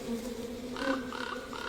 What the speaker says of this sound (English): But the bees are less happy about the situation.